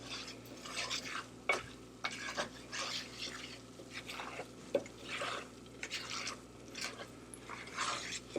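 A flour roux cooking in a pan over medium heat, stirred repeatedly, produces rhythmic scraping and soft sizzling bursts roughly every second, close and moderately quiet, with no voices.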